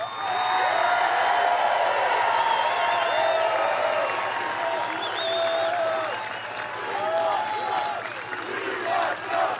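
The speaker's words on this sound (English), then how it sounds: "look at the reaction from the crowd after Trump dog whistles at them about restoring our borders" A large crowd at a Trump rally applauds and cheers loudly and continuously, with whoops and shouts rising above a dense wash of clapping throughout.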